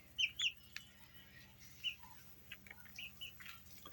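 Young chicks, including a black one, clucking and peeping softly in short scattered calls against a quiet background, with no talking.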